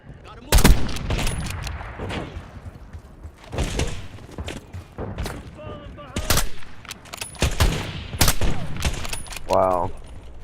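Sniper rifle shots crack in Call of Duty Warzone, several sharp loud reports spaced a second or two apart amid game thumps and background noise.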